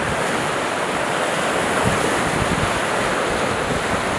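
Sea waves roll onto Hwajinpo beach in Goseong on the East Sea coast while a chilly November wind blows, giving a steady, loud wash of surf and wind noise with no voices.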